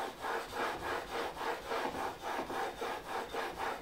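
A hand plane iron is rubbed back and forth on a 1000 grit sharpening stone, a steady scraping rasp repeating in about eight even strokes, close and clear with no talking.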